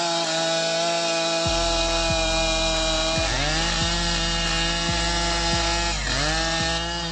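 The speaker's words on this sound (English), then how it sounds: "Using the Style 500i chainsaw, cutting down large trees in the middle of the city becomes safer and more effective than ever." A Stihl 500i chainsaw cuts down a large tree in a city, its engine screaming at high revs in a loud, steady whine that bogs and recovers several times as the chain bites through the trunk.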